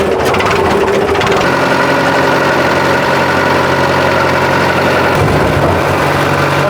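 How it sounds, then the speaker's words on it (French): A farm tractor engine idles steadily up close, a continuous low rumble with a mechanical knock that holds through the whole stretch without talk. "Il est beau quand même le tracteur"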